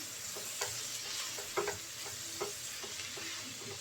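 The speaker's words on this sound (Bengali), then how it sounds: "ভালো করে নেড়ে ছেড়ে ভেজে নেবো" Yardlong bean mash with a pinch of turmeric being stir-fried in a pan, a steady soft sizzle broken by several sharp scraping stirs of a spoon against the pan, close and alone.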